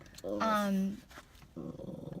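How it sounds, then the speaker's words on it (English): A dog growls nearby in one sustained rumbling burst lasting about a second, followed by a shorter, softer growl; the setting is casual, with a dog approaching. "Oh, there's another dog. He's just coming right over."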